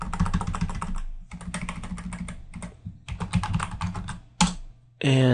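Fast typing on a computer keyboard, with clustered key clicks in several bursts separated by brief pauses and a louder clack near the end, heard close and alone without speech.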